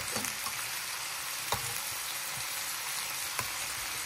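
Pork sizzles steadily in a hot pan, a close, continuous frying crackle with occasional sharper pops and no talking.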